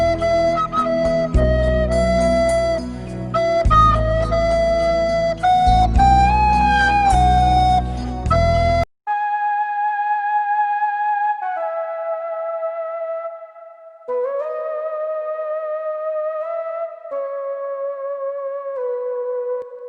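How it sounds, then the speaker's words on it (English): A dense section with several layered instruments gives way to a bright, thin, high-pitched synthesized piccolo lead playing a slow melody of sustained notes on its own. "a piccolo underneath the classical folder."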